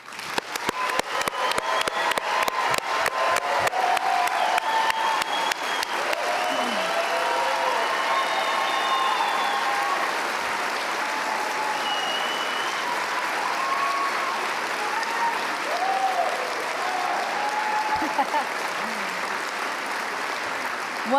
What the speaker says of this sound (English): Please give a round of applause for the 2015 Wasatch Front Region Sterling Scholar finalists.